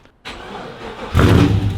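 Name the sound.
boosted Ford XY Falcon drift car engine starting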